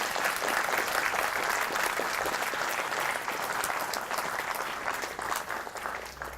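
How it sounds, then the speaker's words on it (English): Sustained applause from a crowd at a game design conference talk, dense steady clapping that gradually thins out toward the end. "So just a round of applause for the guys at the back."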